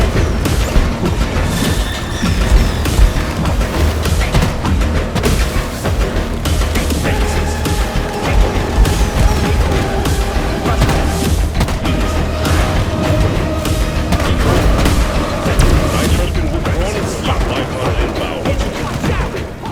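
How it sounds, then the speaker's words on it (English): Rockets and revolver fire in Deep Rock Galactic blend into a loud, dense barrage of explosions and rapid shots that continues without a break, with sharp cracks and booms layered over a rumbling bed. "So the entire gameplay loop is bomb them with the rockets, and then I switch to the revolver for the extra damage."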